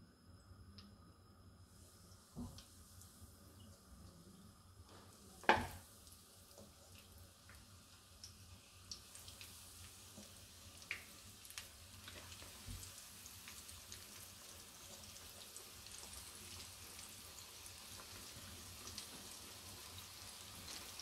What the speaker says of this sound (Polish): Kurczaka wrzucamy na głęboki olej.